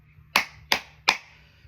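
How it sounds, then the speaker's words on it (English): Three loud, sharp hand claps ring out at an even pace, each a crisp burst with a short decay, over a faint low background hum. "I'm gonna clap loud 3 times."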